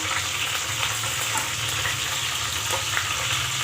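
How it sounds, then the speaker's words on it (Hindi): Cumin seeds and garlic-ginger paste sizzle in hot oil, a dense, loud, continuous hiss and crackle heard close up with no speech over it. "इसमें अब 1 स्पून में ज़ीरा डालूँगी और हाफ़ स्पून जो है इसमें लहसुन अदरक का पेस्ट डालूँगी"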